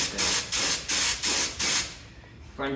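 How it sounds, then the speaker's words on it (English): A spray gun applies ceramic glaze to a pottery piece in five loud, hissing bursts of about a quarter second each, separated by short pauses, then falls quiet apart from a faint clunk at the end. "turn it over and spray the outside first"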